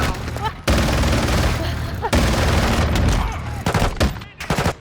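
Dense multiplayer shooter gunfire, with rapid overlapping automatic bursts and shots filling the whole stretch. It breaks briefly twice before resuming loud and continuous.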